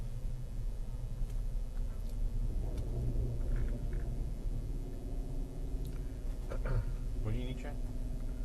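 Cars cruising along Woodward Avenue, a continuous low rumble of engines and road noise with a few brief revs, under steady nearby talk.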